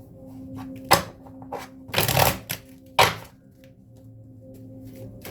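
A deck of tarot cards being shuffled close by, sharp papery riffles and slaps in uneven bursts with quieter handling between them, no talk.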